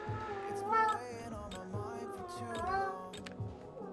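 A cat meows several times in drawn-out, wavering cries, close by, over a low background hum, in a wheel and tyre shop.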